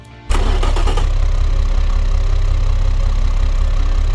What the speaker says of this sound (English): let's fire up this beast here.